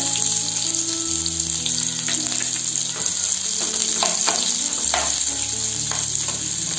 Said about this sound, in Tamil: இது நல்லா பொன்னிறம் வர வரைக்கும் நம்ம நல்லா வதக்கிக்கலாம்.